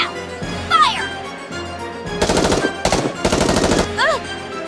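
Gunfire on command in the video game Goddess of Victory: Nikke, two loud sustained bursts of rapid automatic fire, with sweeping electronic whooshes and effects around them.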